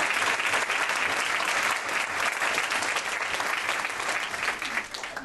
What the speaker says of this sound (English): Let's ask everyone to give a big round of applause to these wonderful.